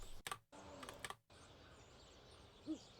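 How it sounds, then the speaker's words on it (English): A deliberate owl hoot in an audio drama soundtrack, two short faint hoots near the end over a hushed background, preceded by a few brief clicking taps. "Okay, there's an owl sound there that's deliberate."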